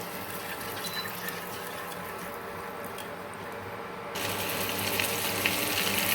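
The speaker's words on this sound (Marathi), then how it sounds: "इथे बघा अंडे फ्राय झाले" Eggs frying in hot oil in a pan for a home-style egg biryani, giving a steady close sizzle and crackle that grows louder and brighter partway through.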